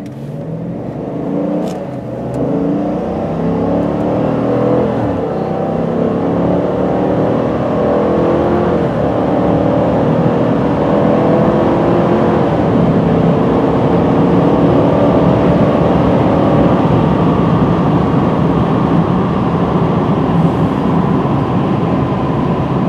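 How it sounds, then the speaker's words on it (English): A 2020 Chevy Silverado LT1500 Crew Cab pickup with a 5.3-liter V8 and two-wheel drive accelerates hard to pass cars, its engine note rising and holding loud and steady from inside the cab, with road roar beneath. "just tried passing in the Silverado, and it has great power for passing cars."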